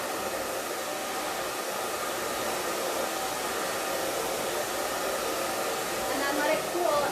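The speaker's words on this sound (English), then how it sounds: "You can take the blow dryer and aim it down the hair shaft" Hair dryer blowing steadily and close through a hair-drying session with a paddle brush, a constant whooshing roar that swells slightly near the end, with no talking.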